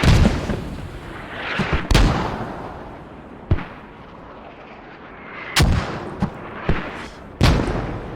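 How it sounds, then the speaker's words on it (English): Mortar shells bursting in a tactical shooter match, several sharp booms scattered irregularly over a rumbling battlefield bed, some loud and close, others softer and farther off. "A lot of mortars going down."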